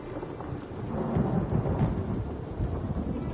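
Thunderstorm in The Elder Scrolls Online among big old stone village walls: a steady wash of heavy rain with a low, rolling thunder rumble swelling in the middle, continuous and fairly loud, with no voices.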